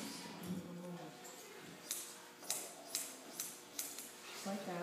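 Scissors snip near and clearly in a regular rhythm, about five quick metallic cuts through a Bichon's head hair, with faint voices in the background.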